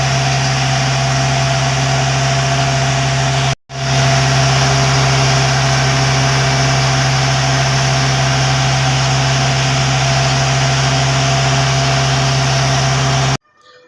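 A motor boat engine drones steadily on a canal in Dhaka, loud and continuous with a low hum, broken by one short dropout before it resumes and runs on unchanged until the sound cuts off.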